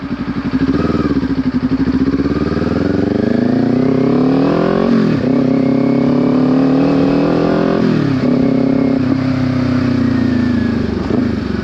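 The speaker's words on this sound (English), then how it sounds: "I just shifted into third gear during that time there." A Kawasaki Ninja 400 motorcycle accelerates hard, its engine note climbing in pitch, dropping sharply at two gear shifts into third, then rising again, loud and close throughout.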